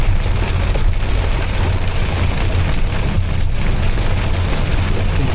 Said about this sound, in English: In fact, the rain is increased now.